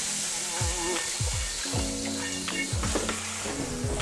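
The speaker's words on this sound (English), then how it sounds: "The first thing that I'm going to do is rinse out my wok." A hot wok on the stove sizzles and hisses loudly as water hits it, with scraping strokes and bursts of steam coming in irregular pulses, close up and with no talking.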